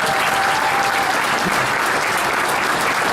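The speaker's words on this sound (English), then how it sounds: "I'd like to give them a round of applause for all the hard work." A crowd applauds construction workers at the Gilbert Road Light Rail Extension opening celebration, a loud, dense and continuous burst of clapping outdoors that holds steady for about three seconds.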